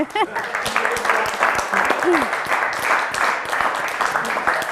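Studio audience applause for a local Pro Loco team on an Italian TV quiz show, a dense steady patter of clapping lasting throughout, with a voice speaking briefly over the start.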